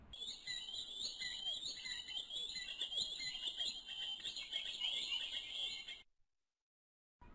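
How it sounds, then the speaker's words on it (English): Green sandpiper calls ring out as dense, high, repeated chirping notes over about six seconds, fairly loud and close, then cut off into silence. "Green sandpiper."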